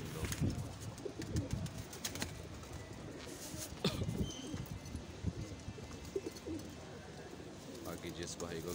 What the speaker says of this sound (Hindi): ये सब पेयर हैं लगे हुए, देखें आप लोग